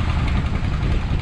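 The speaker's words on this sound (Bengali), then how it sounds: "এই যে ট্রলার, ফিশিং ট্রলার।" A fishing trawler's engine at Kumira Ghat churns out a steady, low, close rumble with a rough, throbbing texture, brief and unbroken, with no talking.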